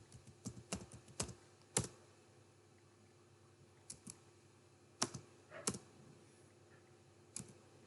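Keystrokes on a computer keyboard while school subject names are entered into a student progress report, heard as scattered short bursts of clicks separated by pauses, fairly quiet and close, with no voices.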